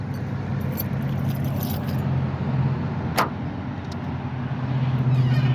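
A car key slides into the ignition of a 1979 Lincoln Town Car, giving a soft jingle of keys and one short metallic click over a low, steady background hum.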